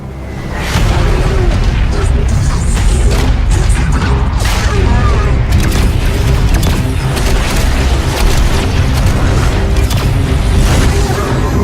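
Explosion set off in a Destiny 2 cutscene, a sustained loud roar and rumble with crashing debris and mechanical clatter lasting many seconds, with a voice faintly under it.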